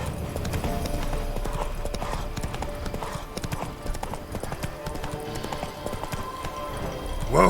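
Roach the horse gallops in The Witcher 3, hooves clip-clopping in a steady, continuous rhythm over a busy game soundscape, with a brief louder burst at the very end.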